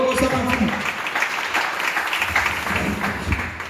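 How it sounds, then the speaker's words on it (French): A church congregation cheers and applauds the Lord in a steady, dense wash of clapping and voices that runs the whole time, fairly loud and close, with no single voice standing out. "Est-ce qu'on va acclamer le Seigneur?"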